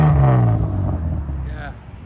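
Exhaust note from a 1999 BMW M3 with a 3.2L inline-six, catalytic converters removed and a Sebring tuning muffler, revving briefly nearby and settling to a smooth idle.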